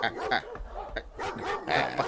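Several dogs barking in a rapid, overlapping series of sharp yaps, fairly close and continuous across the moment.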